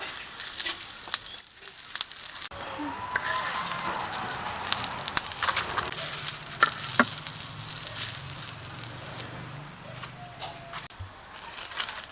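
Fish wrapped in banana leaf fries on a flat tawa with a continuous soft crackle and sizzle, scattered pops and clicks throughout, fairly close.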